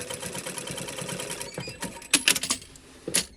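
A sewing machine stitches a one-piece trouser fly close along a seam, running in short irregular bursts with sharper clacks toward the end, fairly close and with no talking.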